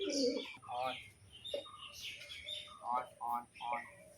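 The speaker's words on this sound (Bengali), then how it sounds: "এই যে এদিকে সব পায়রা রয়েছে" Pigeons coo and burble in several nearby calls on a rooftop at feeding time, mixed with a few chirps and brief overlapping voices.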